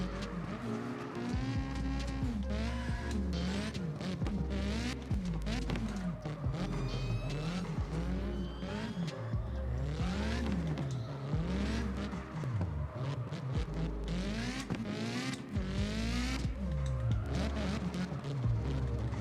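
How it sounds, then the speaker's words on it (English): Car drifting in the video game CarX Drift Racing 2, engine revving and droning in waves while tires squeal almost continuously through long slides, loud and close. "See, I'm managing to drift it"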